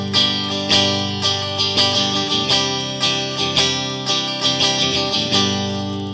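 A Squier Affinity SSS Strat-style electric guitar, played on the combined middle and bridge pickups, strums a series of ringing chords in a steady rhythm, close and clear with no talking.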